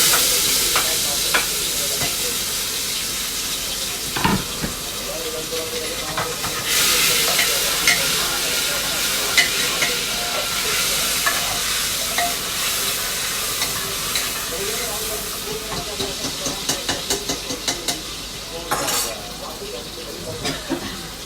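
Garlic, tomato and spices sizzle and fry in a pan as a tadka tempering for plain Maggi noodles. A spoon stirs and scrapes throughout, and the steady hiss runs on for about twenty seconds.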